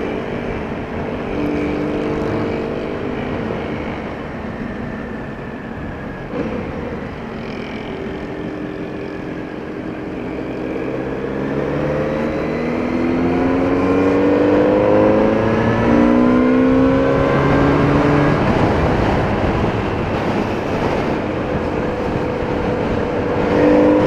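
Kawasaki Z900RS motorcycle on a highway, its engine note rising steadily as it accelerates hard, loud and continuous with rising harmonic sweeps and wind noise, no talking.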